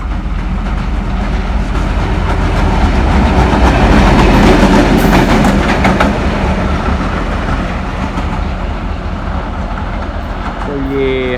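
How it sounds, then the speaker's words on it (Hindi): A GMCU 15 light locomotive with no train behind it passes New Multan railway station in Pakistan, its heavy rumble and clattering wheels loud and steady throughout, with someone talking over it. "ये एक लाइट पावर आ रही है GMCU 15 new Multan railway station से गुज़रने लगे"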